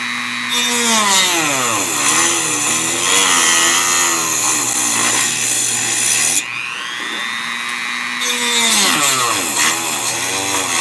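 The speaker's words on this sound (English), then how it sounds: "We're going to just go ahead and Dremel this thing right off of here." Dremel rotary tool cutting off part of a car puddle light, a loud continuous high whine that rises and falls in pitch as it bogs under load, close up and with no voices.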